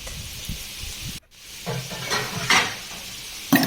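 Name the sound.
sautéing cumin, coriander and kitchen king masala in gravy paste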